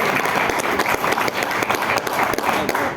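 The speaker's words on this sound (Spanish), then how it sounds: "Denle un aplauso al Señor." A church congregation applauding, steady continuous clapping from many hands filling the room, close and loud with no pause.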